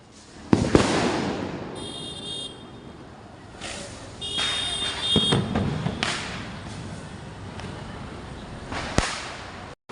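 Several sharp Diwali firework bangs crack at irregular intervals in Hiranandani, followed by high whistling and crackling fizzes, loud and close with echoing tails.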